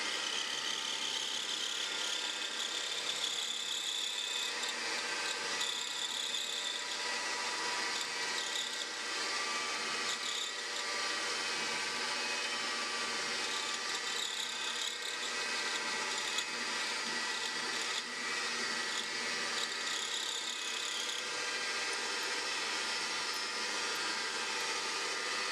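A mini lathe fitted with a milling table cuts metal at about 2,000 RPM, a steady, fairly quiet whirring whine that holds unbroken from start to finish.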